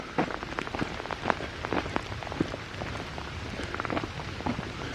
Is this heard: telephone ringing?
no